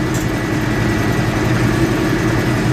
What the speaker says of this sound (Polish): No, no podoba mi się ten silnik, jest 6-cylindrowy, tam był 4-cylindrowy